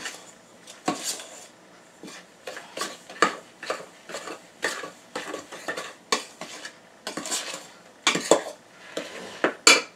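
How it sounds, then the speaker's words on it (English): Flour, cornmeal, salt and baking powder for cornbread muffins are stirred together in a bowl, a steady run of close scraping and clinking utensil strokes against the bowl in an irregular rhythm, with no talking. "So now we're going to mix all of our dry ingredients together. The flour, the cornmeal, the salt, and the baking powder."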